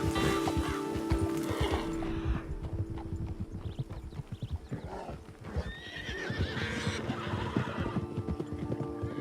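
A horse in Red Dead Online whinnies loudly, with clip-clopping hooves and other game sounds close by, and more neighing follows later on.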